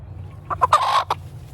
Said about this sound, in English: All the clucks and the bok-boks, they all mean something.